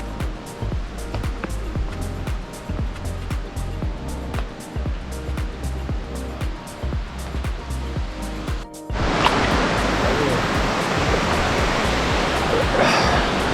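Fortescue Falls, a waterfall in the Karijini gorges, roars as a steady broadband wash of falling water, with rhythmic thumping in the first part before the water noise fills in loud and close.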